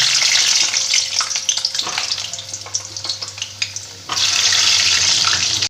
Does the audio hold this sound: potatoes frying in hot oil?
yes